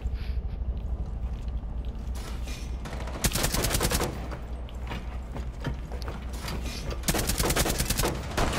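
Bursts of automatic gunfire from the Rainbow Six Siege shooter game rattle out loud and close in several rapid volleys, with mechanical clicks between them and no speech over the shots.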